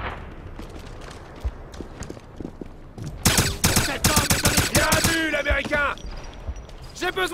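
Rapid automatic gunfire in the Wolfenstein video game, loud close bursts in a dense rattling volley following quieter scattered shots, with voices talking over the action.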